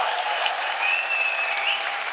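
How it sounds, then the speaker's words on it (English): Rally crowd at a Canada First event with Pierre Poilievre in Surrey, a continuous, even roar of applause and cheering from many people, steady and fairly loud, with a faint whistle-like tone running through it. "He wouldn't be able to give him a round of applause."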